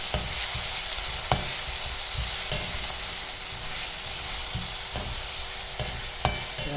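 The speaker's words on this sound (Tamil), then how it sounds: "வெங்காயம் நல்லா வதங்கட்டும்." Steady sizzling of onions frying in oil for Tamil brinjal kuzhambu, with a few sharp scrapes and clinks of a spatula stirring the pan at irregular intervals.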